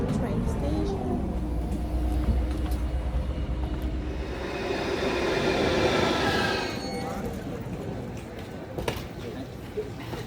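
Inside a packed train heading from the station to Cologne, a continuous low rumble and rattle of the carriages rolls on steadily, with a faint murmur of voices in the background.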